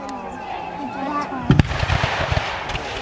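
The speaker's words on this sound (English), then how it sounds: "Some people like when I warn you about the artillery." Someone talks at a battle re-enactment of the 1813 Battle of Stoney Creek. Midway a loud, close artillery boom cuts in, followed by a rumbling echo and crackle under his voice.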